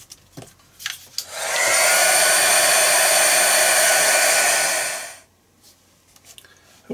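A hair dryer blows steadily for about four seconds to dry paint splatter on an art journal page. Its loud, close whoosh starts and stops abruptly, with faint handling sounds before and after.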